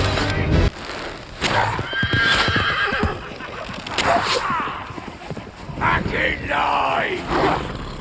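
Horses whinny and neigh repeatedly in a Rings of Power battle scene while under arrow fire, with clattering hoofbeats, scuffling and crowd commotion throughout the loud, busy mix.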